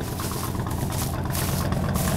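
A 1960 Mercury half-ton truck engine idles through a straight pipe with no muffler, giving a steady, loud, rumbling exhaust drone with a slight pulsing throb that holds at an even level throughout.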